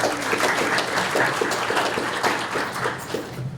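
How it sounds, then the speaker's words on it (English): A student government cabinet meeting audience gives a round of applause for deans and department heads, a moderate, steady patter of clapping hands throughout. "a round of applause"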